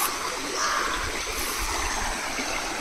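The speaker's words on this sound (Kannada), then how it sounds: "ಸ್ಟ್ರೀಮ್ ಬೇರೆ ಹರಿತಾ ಇದೆ." A mountain stream in the Sakleshpura hills flows with a soft, steady rushing wash, fairly quiet and continuous with no voices.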